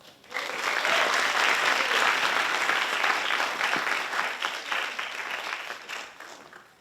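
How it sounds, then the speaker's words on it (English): Warm audience applause greeting a keynote speaker at National Tsing Hua University, starting abruptly and staying as thick steady clapping before tapering off toward the end. "Please join me in giving her a warm round of applause."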